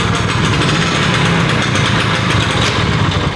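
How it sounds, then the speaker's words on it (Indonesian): A small engine runs loud and close with a rough, rapid chugging drone that holds steady throughout, with no pauses or changes in pace. "Mesinnya masih bagus banget. Nyalainnya masih gampang banget."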